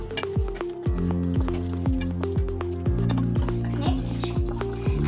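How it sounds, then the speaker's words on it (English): A spoon stirs a thick chole gravy of chickpeas with garam masala and kasuri methi in a pan, making a steady series of about a dozen rhythmic wet scrapes and soft sizzles, close and alone. "Now I'm going to stir it once."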